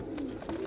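Soft, low pigeon coos murmur close by in a short burst, with faint rustling in the background.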